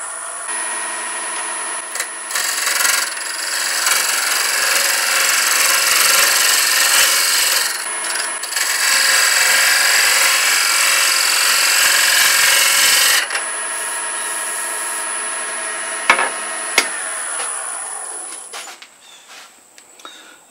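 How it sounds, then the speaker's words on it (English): A Glenn Lucas bowl gouge with a G4 swept-back grind cuts a wooden Christmas ornament spinning on a lathe at about 1300 RPM, a close, loud, continuous scraping hiss in long passes that stops, then brief lighter touches follow. "going to use this bowl gouge. It's got swept-back wings. It's a Glenn Lucas gouge with his G4 grind."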